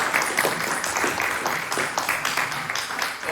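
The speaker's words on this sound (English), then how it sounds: "let's give Mary a round of applause" An audience at a community evening event claps for its county supervisor, a dense, even wash of hands sustained for a few seconds at moderate loudness.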